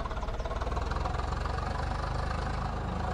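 A tractor engine in the video game Farming Simulator 22 idles steadily in a low, throbbing chug, loud and continuous with no other sounds.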